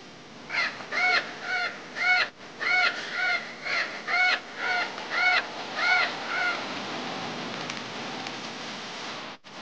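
A crow caws repeatedly in an animated Hindi folk story, about a dozen harsh, evenly spaced calls coming fairly close over steady background hiss, with no talking.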